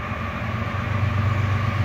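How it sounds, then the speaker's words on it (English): A CSX freight train of small ethanol tank cars rolls past close by, a steady loud rumble of wheels and cars that swells slightly toward the end, with no voices. "It's like the ethanol train"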